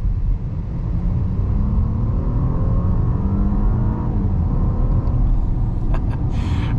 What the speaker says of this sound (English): we will get this car up to 25 miles an hour and just mash the throttle, see what happens.